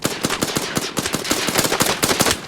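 Rapid, loud gunfire cracks in dense overlapping bursts during a military field training exercise, close by and continuous with no voices.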